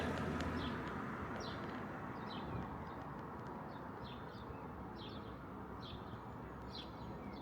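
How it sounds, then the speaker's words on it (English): Birds chirp in a garden at sunrise, a series of faint, high short calls repeating every second or so above a steady broadband hum of ambient noise. "watch the sunrise out in the garden and listen to the birds chirp"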